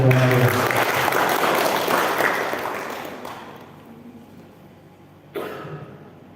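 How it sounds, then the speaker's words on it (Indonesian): Loud applause from an audience at the opening of a Balinese language month seminar, dense clapping that fades over about five seconds before a brief burst returns near the end. "Tepuk tangan dulu untuk saya."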